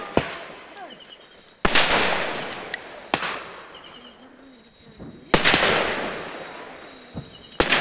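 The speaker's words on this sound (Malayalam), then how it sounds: "ചുറ്റും പടക്കം പൊട്ടലാണ് കേട്ടോ." During Vishu celebrations in a village, firecrackers burst all around, with several loud sharp bangs followed by long rumbling echoes and scattered smaller pops both near and farther off.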